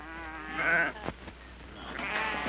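Sheep bleat twice on a ranch in a 1965 western TV drama: a wavering, fairly close bleat followed after a pause by a second one, over a faint steady background.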